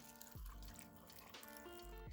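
Water pours into a container while making a turmeric, apple and carrot wellness shot, a steady close splashing trickle with a few brief low thumps.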